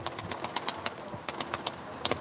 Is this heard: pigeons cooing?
yes